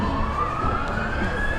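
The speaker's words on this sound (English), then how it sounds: "Wait till the ambulance goes by." Ambulance siren sounding in the street during an outdoor climate strike rally, a steady wailing tone rising slowly over loud traffic and crowd noise, fairly close and continuous throughout.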